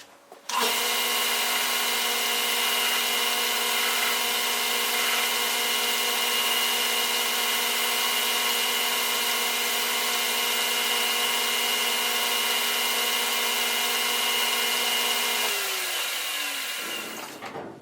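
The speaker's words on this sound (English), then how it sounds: "Hacksaw our little groove in there." A hacksaw cuts a groove into a metal tap handle, giving a steady, sustained grinding buzz with a bright ringing tone. It runs continuously for about fifteen seconds before winding down and stopping.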